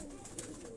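Prized pigeons kept at a home in Qatar coo softly, a brief low throaty burble heard close against faint background noise, no voices.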